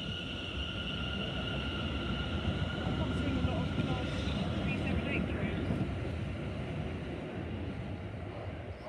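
A London Overground train pulls out of Hatch End station, a steady broad rumble with rising tonal whine from the traction motors, sustained throughout at moderate distance.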